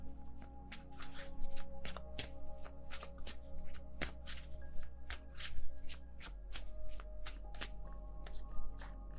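Tarot cards being shuffled by hand, a steady run of quick riffling snaps and soft card slaps, close and fairly loud, alone with no voices, over a low constant hum.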